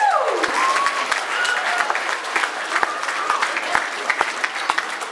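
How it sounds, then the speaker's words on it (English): Guests at a wedding reception applaud the bridal party, a continuous wash of clapping with occasional sharp individual claps and a few whoops and cheers. "let's give them a round of applause"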